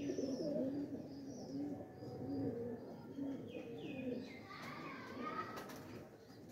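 Soft, low cooing from homing pigeons landing after flight repeats in rounds, with occasional higher chirps and faint distant voices in the background.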